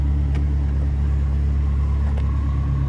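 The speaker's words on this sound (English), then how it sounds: "Listen to that exhaust." A 2003 Ferrari 360 Spyder sits idling, its exhaust giving a steady, deep, loud rumble that holds constant throughout with faint ticks on top and no talking.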